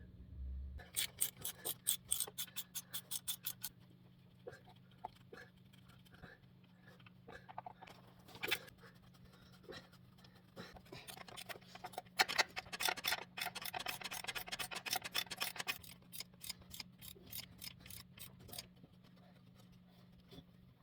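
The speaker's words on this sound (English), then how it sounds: "we're going to remove the various 15mm Bellhousing bolts" A ratchet wrench working loose 15mm transmission bellhousing bolts on a 4L60E, rapid bursts of clicking ratchet teeth repeating in several runs, close and fairly quiet, over a low steady hum.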